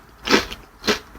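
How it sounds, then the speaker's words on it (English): Two crisp bites into baked Armenian lavash chips, each a short, close crunch with a brittle crackle, separated by a brief pause. "These chips are irresistibly crunchy"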